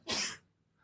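A single sharp human sneeze bursts out close by, brief and fairly quiet, followed by near silence.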